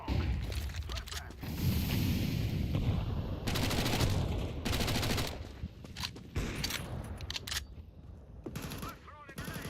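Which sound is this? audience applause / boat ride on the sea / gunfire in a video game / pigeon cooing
gunfire in a video game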